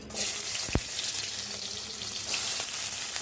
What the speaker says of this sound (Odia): ଅଣ୍ଡା ତେଲ ଦେଇଦେଲି, କଢ଼ା ଗରମ ହେଇଗଲାଣି, ତେଲ ବି ଗରମ ହେଇଗଲାଣି। ପିଆଜ ଦେଇଦେବି